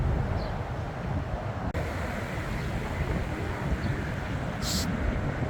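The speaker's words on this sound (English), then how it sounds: "It's still windy today," Steady wind buffets the microphone at a Palm Springs highway rest stop, a constant low rumbling roar with no pauses, close and moderately loud, with a faint distant vehicle hum beneath.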